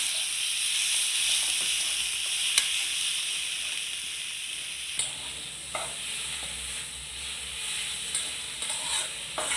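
Leafy greens (shak) frying in hot tempered oil, a steady close sizzle and hiss with occasional stirring clicks and scrapes throughout, no talking.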